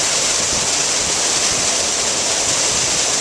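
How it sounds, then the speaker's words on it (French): Water splashing steadily from a public fountain on a square in Stockholm, a continuous broadband rush heard up close and fairly loud, with no voices. "C'était la fontaine préférée de Descartes."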